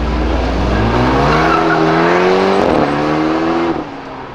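Tuned Citroën DS3 on a Stage 4 remap revving hard up through the range, a loud, close engine roar climbing steadily in pitch, dipping briefly, then rising again before easing off.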